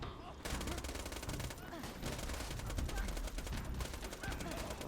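Rapid gunfire from a video game shooter, Borderlands 2, running as a dense, continuous rattle of shots for nearly five seconds, with a voice talking faintly underneath.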